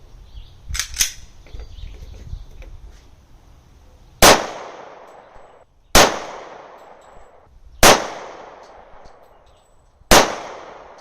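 Handgun shots at an outdoor shooting range, four sharp loud cracks spaced about two seconds apart, each with a short ringing decay, after a few quieter knocks and handling sounds.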